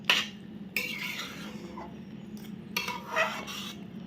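A spoon stirs a thickening idli rava breakfast mixture in a pan. A few close, scattered scraping strokes are separated by quiet gaps.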